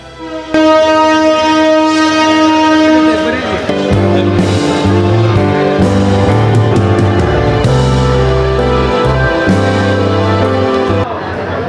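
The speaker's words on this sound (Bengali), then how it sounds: "তো ট্রেনটি ছেড়ে চলে যাচ্ছে নরসিংদী রেলওয়ে স্টেশন থেকে" A train rumbles and clanks as it pulls away from Narsingdi railway station, Bangladesh, with a long horn blast at the start and people talking nearby over the steady mechanical roar.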